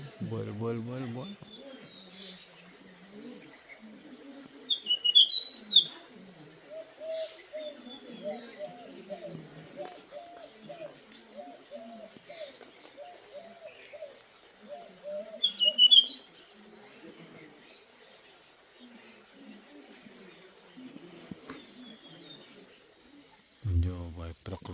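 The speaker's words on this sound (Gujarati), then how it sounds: "જો ભાઈ જંગલમાં પક્ષીની મોજ." Birds chirp in short, bright bursts in a jungle, with two louder flurries standing out over a murmur of people talking nearby throughout.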